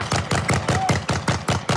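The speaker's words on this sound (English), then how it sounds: "At least 15 gunshots can be heard." A rapid, evenly spaced burst of gunshots, about eight sharp cracks in under two seconds, loud and close, with no voices, at a food distribution site.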